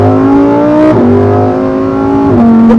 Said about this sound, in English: Sound of that V10 is unmatched.